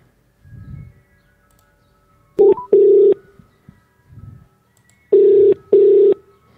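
Touch-tone phone being dialed to call back a radio show caller: several loud, clean beeps in pairs and singles, separated by soft low thumps from handling the phone, with no voices.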